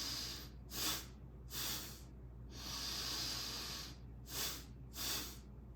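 Breathing exercise with a pattern of two inhales and one exhale: soft, close, hissing breaths in slow repeated cycles, fairly faint, with no talk.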